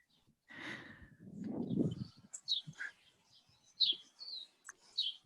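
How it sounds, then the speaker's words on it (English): A few faint, scattered bird chirps and tweets, short high calls spaced apart, with a low muffled sound near the start. "Some birds tweeting"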